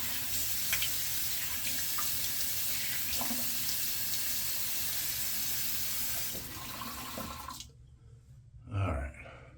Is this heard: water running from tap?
yes